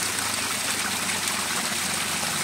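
Water from a mountain spring trickles and drips down from above on a forest trail near Paete, Laguna, a steady close splashing wash with no talking.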